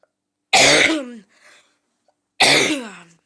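Two harsh coughs from a single person, close and loud, separated by about two seconds of silence, with a faint trailing breath after the first.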